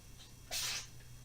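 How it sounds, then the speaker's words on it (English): A cat's single short, sharp sneeze bursts out of quiet background hum, a quick hissy puff lasting about a third of a second. "That's a cat sneezing."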